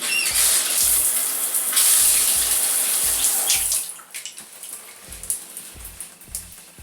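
Tap water runs steadily and loudly while hair is wetted during a Type 4 wash-and-go routine, then cuts to softer splashing and dripping with handling noises.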